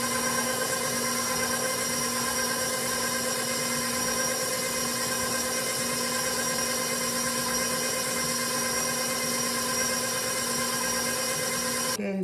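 Electric stand mixer running steadily at medium speed through caramel pound cake batter, a constant whirring motor hum with a tonal whine, close and unbroken, stopping right at the end.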